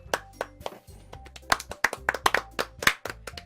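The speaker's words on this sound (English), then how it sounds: "The four of us applaud." Short burst of hand clapping in Doki Doki Literature Club, a few people applauding close up with sharp irregular claps over a faint musical tone, no talk.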